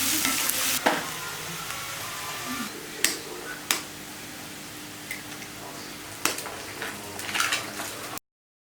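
Ingredients frying in a pan for egg podimas, a soft steady sizzle broken by several sharp scrapes and taps of a spoon stirring against the pan.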